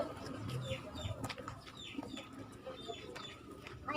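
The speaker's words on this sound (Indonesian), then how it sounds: "Ayam yang tadi ya." Chickens cluck softly in the background of an outdoor yard, with scattered short calls and occasional wing flaps over a low ambient bed, all faint and fairly distant.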